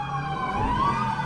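A short stretch of a police car siren sounds as the car arrives at a looted store, a steady wailing tone heard alone at moderate distance.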